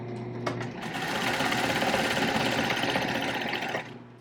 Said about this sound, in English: I'm going to use a zigzag stitch again for the bottom because, again, it's stretch fabric